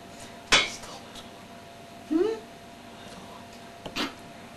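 A mixing bowl knocks and clinks against a baking pan while brownie batter is poured, giving a few sharp metallic and ceramic clanks spaced apart, with quiet talk around them.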